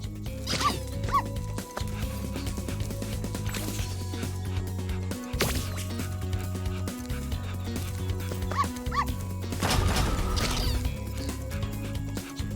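Dog in Spyro 3: Year of the Dragon, with several sharp yips and barks in short groups over looping game music and effects.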